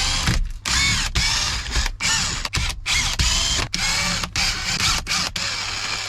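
A power drill or driver spins out the motor bolts on a BMW E60 seat thigh support in loud whirring bursts broken by short gaps and ratcheting clicks, close by with no talking.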